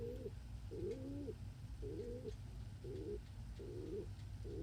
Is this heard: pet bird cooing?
yes